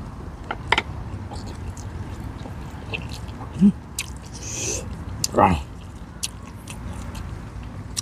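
Close, wet chewing and crunchy bites of a jackfruit dish with onion, eaten outdoors, come in irregular bursts with pauses between them, and faint murmuring runs underneath.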